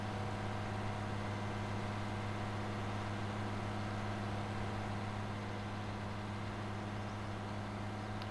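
A tractor engine in Farming Simulator 19 drones steadily at a constant, even pitch throughout, a close and continuous hum with no talk.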